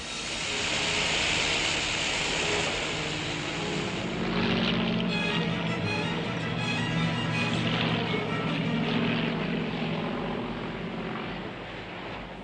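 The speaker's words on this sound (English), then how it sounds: "Aircraft searched the seas ready to bomb and machine gun." A World War I-era propeller plane drones steadily overhead, a loud continuous engine hum with a low throbbing rumble that swells slightly midway.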